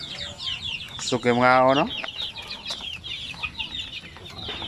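Native chickens cluck and chatter at close range in a farmyard, a steady run of short clucks with one drawn-out squawk, while someone speaks in the background.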